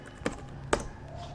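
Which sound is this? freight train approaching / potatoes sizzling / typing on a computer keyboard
typing on a computer keyboard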